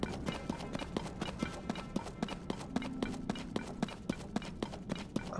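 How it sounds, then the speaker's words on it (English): Skeleton horses gallop in Zelda: Tears of the Kingdom, their hooves striking in a steady, evenly spaced clip-clop rhythm over a low game ambience, with no voices. "there's some skeleton horses"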